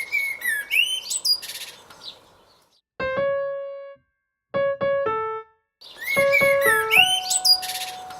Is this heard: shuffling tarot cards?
no